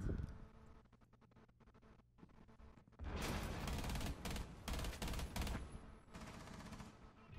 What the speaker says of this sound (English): Oh, he shot at me.